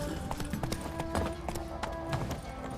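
A horse gallops in The Witcher 3 video game, its hooves beating a quick, even clip-clop rhythm close up, with a faint musical tone sustained underneath.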